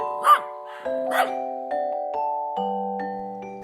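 A dog gives two short, sharp barks near the start over a steady, stepping melody of sustained musical tones, with another brief burst at the very end.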